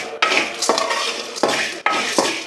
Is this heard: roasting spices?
yes